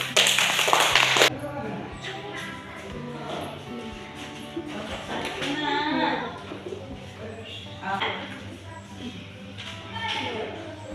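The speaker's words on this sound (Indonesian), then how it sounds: "Tepuk tangan." Fourth-grade pupils in an elementary school Catholic religion class clap their hands in one loud, brisk burst lasting just over a second, followed by a teacher talking while pigeons coo faintly in the background.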